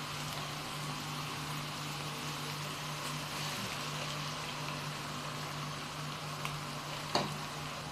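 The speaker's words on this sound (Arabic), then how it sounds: "لازم تقلوا مليح المكونات" Onions, tomatoes and other ingredients for a bean dish fry in a pan, a soft steady sizzle with a low continuous hum underneath and a brief clink near the end.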